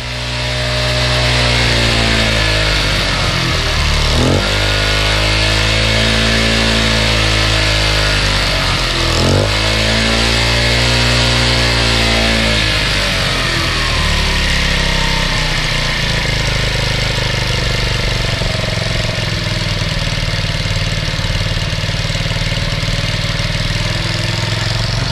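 Honda Delta string trimmer two-stroke engine running loud and close, rising and falling through several revs with sweeping pitch, then settling into a rough, steady idle that has an air leak and surges on its own.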